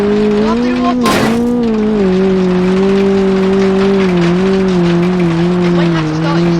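A car accelerating in the BeamNG driving game, a steady loud engine drone with a rising and wavering pitch, broken by a brief sharp crash or impact near the start.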